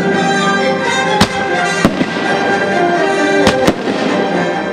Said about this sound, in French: les coups de canon du château de Belfort annoncent la mobilisation générale